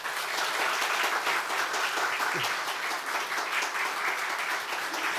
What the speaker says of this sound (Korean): 오늘 교수님과 사모님 저희가 큰 박수로 환영하겠습니다